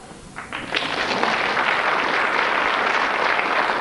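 A studio audience on a 1997 Countdown game show breaks into applause that swells quickly and holds as a steady, fairly loud wash for several seconds.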